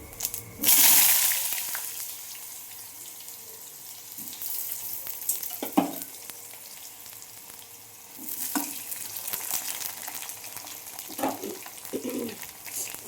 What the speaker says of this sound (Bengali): কড়ার তেল গরম হয়ে গেছে। আমি এতে জিরে ফোড়ন দেবো।